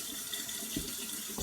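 Cold water runs from a kitchen tap while pie pastry is being made, a steady close splashing stream into a sink with a couple of brief louder splashes near the end and no talking.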